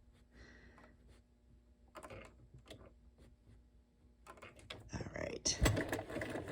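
A sewing machine stitches decorative stitches on fabric hexagons, with rapid mechanical clatter building in bursts and growing louder toward the end, while a voice speaks briefly.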